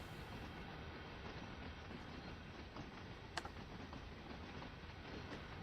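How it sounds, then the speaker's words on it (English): An old EMD F7 diesel locomotive runs in the Train Sim World 2 game on the Clinchfield Railroad, a steady, dense rumble of engine and wheels on rail with a faint clickety-clack and one brief sharp click. "Yeah, it's an old train."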